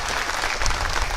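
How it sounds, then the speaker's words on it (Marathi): Loud, dense clapping from a large crowd at a civic felicitation ceremony for a newly elected municipal council president and councillors in Jat, sustained and steady throughout. "इतक्या जोरात टाळ्या वाजवा की त्यांच्यापर्यंत गेल्या पाहिजेत"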